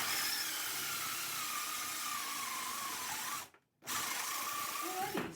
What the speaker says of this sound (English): It's from the friction between the saw and the wood.